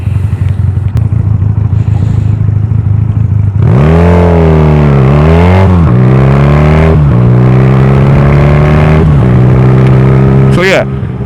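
Honda Rebel 250 motorcycle engine revving up on throttle blips during downshifts, several rising and falling rev sweeps over a steady idle rumble, loud and close.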